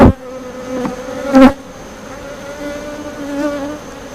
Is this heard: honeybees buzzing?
yes